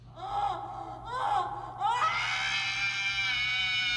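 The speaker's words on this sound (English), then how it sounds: "the Golden Freddy jump scare sound effect, is a much lower pitched version of the same scream" A harsh, distorted Five Nights at Freddy's jump scare scream effect: two short rising wails, then a loud sustained shriek that holds to the end.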